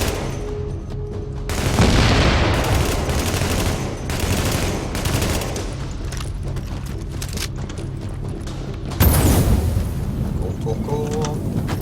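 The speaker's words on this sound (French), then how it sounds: "Grenade incendiaire" Incendiary grenade blasts and gunfire in the video game The Division, with a burst of explosive fire near the start and another late, over continuous rattling gunshots and a talking player.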